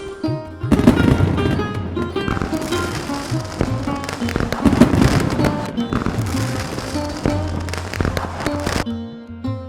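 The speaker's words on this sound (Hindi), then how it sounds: "गांव में पटाखे की गूंज थी" Firecrackers burst in a village on Diwali night, loud sharp cracks and rapid crackling volleys layered over music, ending abruptly.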